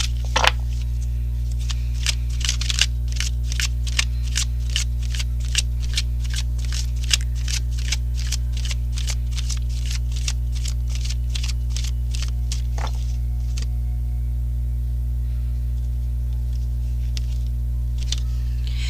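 Tarot cards shuffled in rapid, crisp riffling bursts, a steady run of sharp flicks close by with a brief pause partway, over a constant low electrical hum and no talking.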